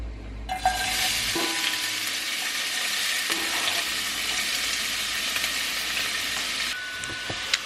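Chopped onion hits a hot pan and breaks into a loud, even sizzle that holds steady for several seconds, with a few faint utensil clicks, and the clip ends without anyone speaking.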